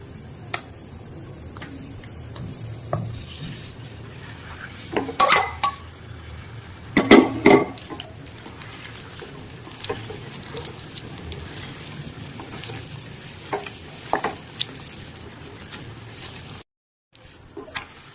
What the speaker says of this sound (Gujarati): ઘી ગરમ થઈ જાય એટલે આપણે એમાં ખજૂર નાખીશું.